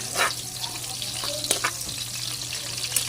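Onion and garlic fry in a pan for a Cebu-style paklay dish, a steady close sizzle with occasional scrapes and clinks from stirring, and no talking over it.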